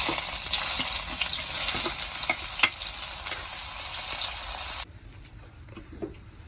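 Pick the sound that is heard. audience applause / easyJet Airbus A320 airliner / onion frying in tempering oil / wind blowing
onion frying in tempering oil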